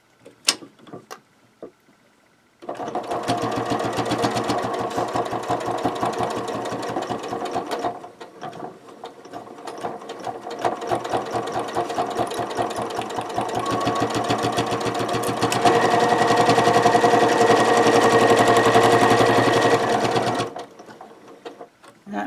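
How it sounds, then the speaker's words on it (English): A sewing machine stitches through thick, heavy potholder fabric in one long, steady, rapidly ticking run, close and loud, briefly easing then speeding up before stopping. "this machine just ran right over it, but I had to keep my speed up so I didn't get stuck"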